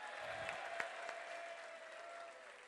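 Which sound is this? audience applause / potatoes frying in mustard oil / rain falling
audience applause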